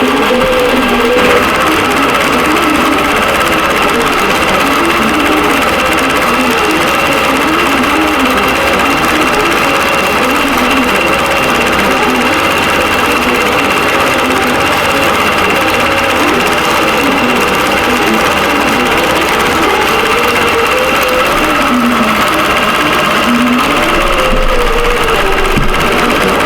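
A quilting machine stitches a feather pattern on a vintage quilt, giving a loud, steady, close-up mechanical hum that holds without a break throughout.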